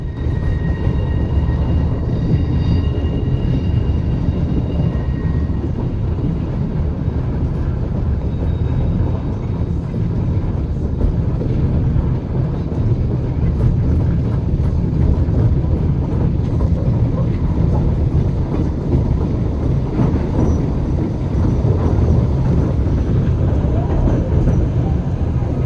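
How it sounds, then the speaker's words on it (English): White Pass Scenic Railway train crossing slowly above a canyon near Skagway, Alaska: a steady, loud low rumble of rolling cars fills the whole stretch, with faint high squeals and no break in the noise. "As the train slowly crosses above the canyon"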